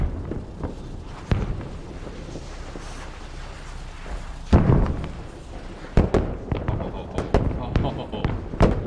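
Rocket artillery firing for effect in the Steel Rain video game: a loud whoosh-blast, then a ragged volley of sharp launches and bangs near the end, with voices talking underneath.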